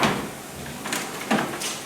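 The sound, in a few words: washing machine detergent drawer being closed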